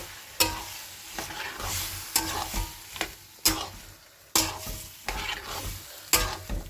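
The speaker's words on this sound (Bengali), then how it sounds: "ধনে জিরে বাটা আর হলুদ গুঁড়ো এবার এটাকে সব কটাকে কষিয়ে নেবো আমি সুন্দর করে" Coriander-cumin paste, yogurt and turmeric stir-fried in a pan, with repeated spatula scrapes and stirs over a steady sizzle, close and fairly loud.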